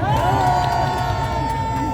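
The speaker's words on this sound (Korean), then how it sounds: "다시 한번 큰 박수 부탁드리겠습니다." A crowd at a rally in Busan cheers and applauds steadily for a full stretch, a dense wash of voices and claps with some whoops and no clear speech on top.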